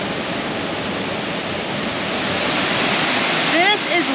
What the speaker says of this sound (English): This is Lucifer Falls.